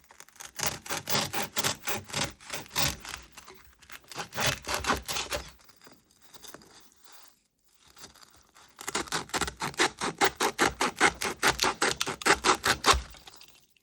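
Material being trimmed for an Easter table setting, heard as rapid, close, rhythmic cutting strokes in three bursts with short quiet pauses between them.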